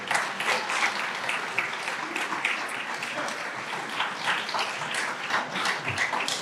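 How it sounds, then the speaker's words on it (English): An audience at a high school senior and captain athletic award night claps steadily for volunteers, a dense, even wash of applause that holds for several seconds at moderate volume. "I'd like a round of applause for them"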